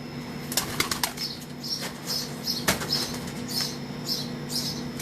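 Pigeons of an old pigeon breed flap their wings from a rooftop loft in a series of quick, close bursts of fluttering, several separate takeoffs over a quiet background.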